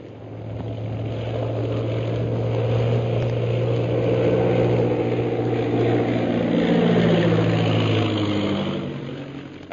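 Aircraft engines of a fifteen-plane air squadron landing at a camp, a radio drama effect: a steady, loud droning roar of propeller engines that swells and holds for about ten seconds with no talk.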